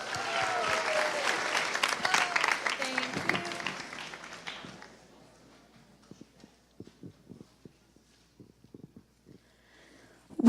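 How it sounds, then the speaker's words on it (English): Audience applause at a high school spoken word event, fairly loud for about four seconds, then thinning to scattered claps and small noises, with a brief sound right at the end. "Let's give her a round of applause."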